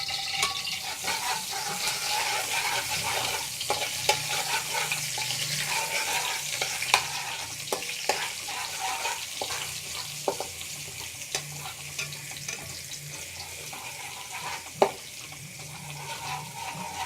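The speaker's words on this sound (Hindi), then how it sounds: "लहसुन को थोड़ा फ्राई कर लेंगे हम।" Garlic frying in ghee in a pan for an achari chicken dish gives a steady, close sizzle with occasional stirring scrapes and clinks, heard alone without any talking.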